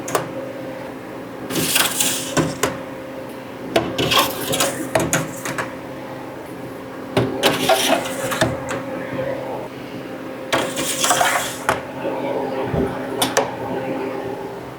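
Several bursts of metallic clattering and sliding as trays of pre-frozen blanched baby carrots are pushed into a Harvest Right freeze dryer, over a steady machine hum.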